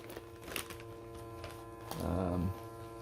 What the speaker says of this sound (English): This is still vacuuming, as you can tell.